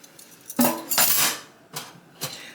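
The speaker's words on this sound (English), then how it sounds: "I am going to use 1 tablespoon of honey and put there. And then I'm going to mix this all up together." Utensils clink and scrape against a bowl while honey-sweetened bibimbap sauce is stirred, a few loud clattering bursts close up followed by two shorter knocks, with no talking.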